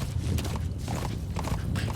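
Horse hooves clip-clop at a steady walking pace in Metal Gear Solid V, soft repeated thuds over a rumbling low background.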